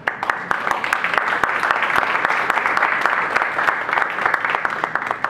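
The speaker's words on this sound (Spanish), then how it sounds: "Recibimos con fuertes aplausos" A conference crowd gives a speaker strong applause, dense clapping from many hands with sharp individual claps standing out, loud and close, continuing steadily throughout.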